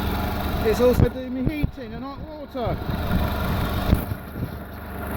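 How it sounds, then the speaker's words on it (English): An old van's engine ticks over at a steady idle, with no revving, humming low and constant beneath someone talking. "So the van's ticking over nicely. It's just on tick over, no revving or accelerating on it as required."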